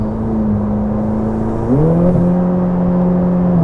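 A Ferrari F8 Tributo engine revs loud and close, a steady drone that climbs sharply in pitch about halfway through and holds at the higher note with no talking over it.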